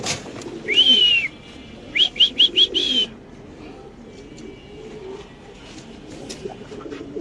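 A male Sensi pigeon coos at a pigeon farm, with a few short, loud, whistly calls in quick succession near the start, followed by quieter low murmuring.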